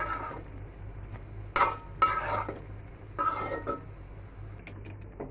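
Fish kofta being stirred into fried spice paste in a pan, with a few short, brisk scraping bursts over a low steady background hum and no talk.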